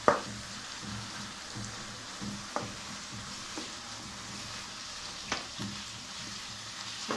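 Beef crepe filling sizzles steadily in a frying pan, with a few sharp scrapes and taps of a utensil stirring it at intervals, close and moderately quiet.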